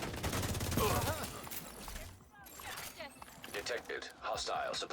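Video game gunfire, a loud burst of rapid shots early on followed by scattered shots and game sounds, mixed with a speaking voice throughout.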